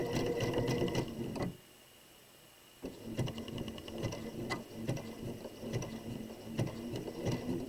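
A sewing machine runs a zigzag stitch along fabric for a face mask, rapid mechanical clatter in two bursts separated by a brief quiet pause.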